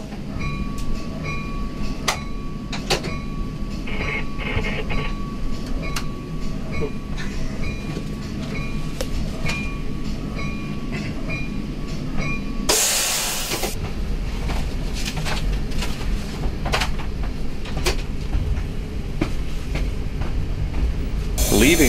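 A Metra Milwaukee District commuter train, heard from the cab car, rolls steadily along rails with a continuous rumble and scattered metallic clicks and clacks; a brief louder rush of noise passes around the middle.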